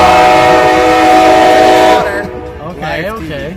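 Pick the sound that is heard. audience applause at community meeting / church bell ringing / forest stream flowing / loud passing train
loud passing train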